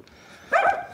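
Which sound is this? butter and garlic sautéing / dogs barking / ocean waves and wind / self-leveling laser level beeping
dogs barking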